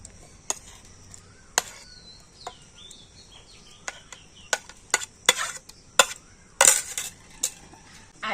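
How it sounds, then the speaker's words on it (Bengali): Ripe mango being cut into pieces and dropped into a mixer jar, with a series of sharp, irregular knife chops and clinks against a quiet background. "এখন আমি কেটে একটা আমটা মিক্সি জারের মধ্যে নিয়ে নেবো"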